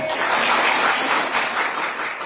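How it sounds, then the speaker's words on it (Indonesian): Applause for a high school, SMA Negeri 3 Bireuen, during an official education visit in Aceh, a steady wash of many hands clapping, fairly loud and continuous through the short stretch. "Tepuk tangan."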